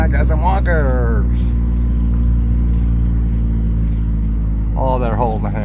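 Vehicle engine near a boat ramp by Parker Dam, a steady low rumble with a rising rev at the start and another near the end, loud and close, with people talking briefly.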